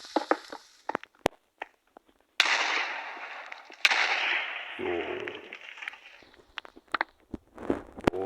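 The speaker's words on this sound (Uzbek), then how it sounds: "Yana bir portlash." Video game explosions go off in two sudden, loud blasts, each trailing into a rumbling, crumbling decay, with scattered sharp clicks and footstep-like taps around them.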